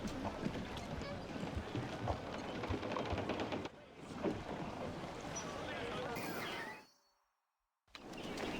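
A sailing ship weighing anchor and setting sail in Assassin's Creed Black Flag, with creaking timbers, rushing wind and water, and voices speaking over the ship noise before the sound briefly drops to silence.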